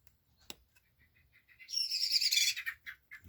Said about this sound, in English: Birds are going crazy out there.